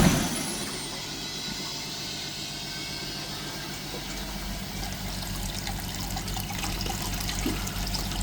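Water flushing through a Peugeot Boxer diesel particulate filter during cleaning, a continuous gushing and trickling rush with a low mechanical hum underneath, steady and close.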